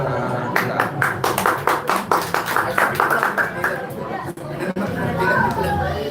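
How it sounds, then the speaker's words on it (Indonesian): A church Sunday school audience claps for the children's performance, a quick rhythmic burst of many hands that fades into crowd chatter and murmuring voices. "Kita berikan tepuk tangan buat anak-anak kita."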